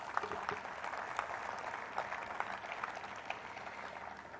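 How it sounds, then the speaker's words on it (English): An awards-ceremony audience gives the jury a round of applause, steady many-handed clapping heard faintly and at a distance, holding evenly for several seconds. "a special round of applause for the jury"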